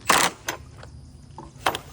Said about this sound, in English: torque this one down with the impact